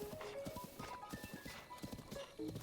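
Horse hooves in Zelda: Breath of the Wild, a quick rhythmic clip-clop of galloping with a brief whinny, close and clear, with no one talking.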